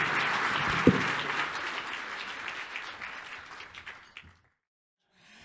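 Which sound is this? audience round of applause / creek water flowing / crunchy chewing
audience round of applause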